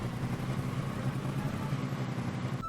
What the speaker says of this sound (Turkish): Hey dostum motor sesi nereden geliyor?